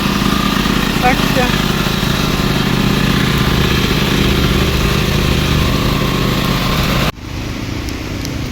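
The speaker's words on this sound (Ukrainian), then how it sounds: "Послухай, який генератор, як буде." A small Hyundai portable power generator runs steadily and loudly nearby with a constant droning engine hum, outdoors during a power outage, while someone briefly speaks over it.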